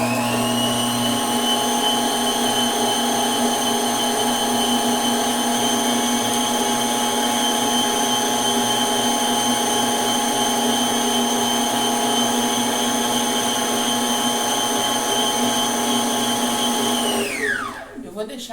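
An electric mixer beats chocolate cake batter in a steady, loud, high whirring hum that holds for nearly the whole stretch, then spins down and cuts off at the end.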